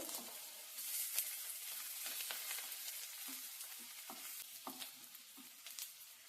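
Onions and curry leaves frying in a pan: a quiet, continuous sizzle with scattered small pops and occasional stirring scrapes, close by and without speech.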